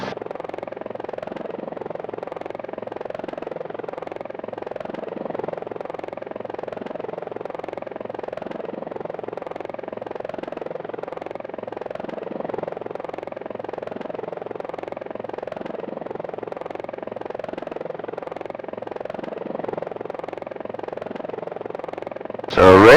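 A helicopter flies over the erupting Kilauea volcano in Hawaii, its steady rotor and engine drone loud and continuous throughout, with a brief louder burst at the very end.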